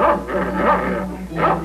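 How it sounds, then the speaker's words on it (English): A dog playing in a garage gives a few loud, close yips and bow-wow barks in quick succession, with some whimpering tones between them. "So Bobby and the dog are having a wonderful time playing in the garage."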